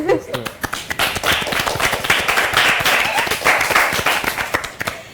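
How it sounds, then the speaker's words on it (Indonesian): A talk show audience breaks into loud, dense applause, many hands clapping rapidly and continuously, close and sustained throughout, with a brief voice at the very start. "Aplaus."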